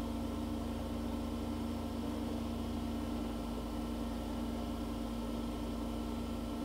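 An Okamoto 8 x 20 inch universal cylindrical grinder runs its variable-speed workhead, giving a steady, smooth, quiet mechanical hum with a constant tone and no change in level.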